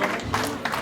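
Wedding guests applauding: dense, close clapping over a steady crowd murmur with a voice over it, lasting under a second.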